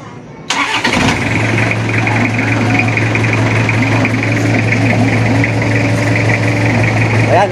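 Toyota Revo engine cranking and starting after a wiper repair, catching abruptly and settling into a steady, loud, close idle with a constant low drone, while someone talks over it.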